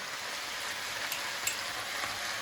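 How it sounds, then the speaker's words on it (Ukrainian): Chopped onion sautéing in a pan for bulgur with vegetables and meat gives a quiet, even crackling sizzle throughout, with a couple of faint ticks. "Перемішуємо все разом, пасіруємо цибулю."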